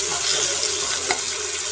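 Onion and chopped tomato frying in a pan for a pomfret curry give a steady, close sizzle with faint stirring scrapes throughout.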